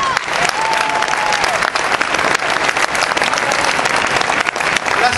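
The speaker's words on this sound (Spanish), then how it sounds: "Vamos a aplaudirnos a nosotros que venimos hasta acá." Loud, dense applause from a crowd at a film presentation at the Buenos Aires Book Fair, sustained clapping filling the whole stretch with no pause.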